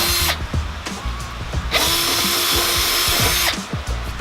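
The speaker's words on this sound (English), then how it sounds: "help keep the drill from running away on you while you drill out the" Power drill boring mounting holes for a relocated battery box in an S13 240SX, a steady loud whine running in bursts with brief pauses and bites into the workpiece, close up with no talk.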